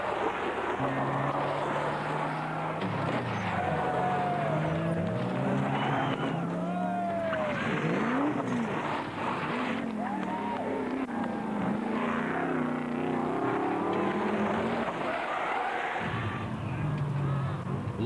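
A Subaru WRX Impreza rally car on a tarmac rally stage drives hard and close, engine revving up and down through gear changes in a continuous roar, with commentary over it.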